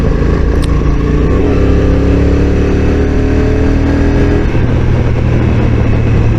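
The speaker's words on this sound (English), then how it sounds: "It's a basic twin engine with a basic stock exhaust." A 2022 Honda NT1100 DCT twin-cylinder motorcycle engine with a stock exhaust rumbles loudly up close, revving and then settling back to a lower, steady throb.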